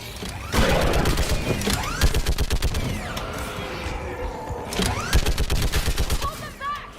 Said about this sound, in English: Get on that gun! Shoot the barrier!